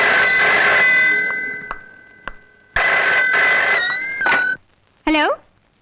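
An old telephone rings in a room, its bell trilling in repeated bursts with gaps between them, mixed with dramatic background music and a voice near the end.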